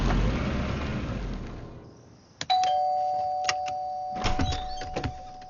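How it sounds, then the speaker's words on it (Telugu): An electronic calling bell at a house door chimes clearly after a fading rumble, its tone ringing on while sharp knocks and clicks follow. "కాలింగ్ బెల్ ఎందుకు కొట్టారండి?"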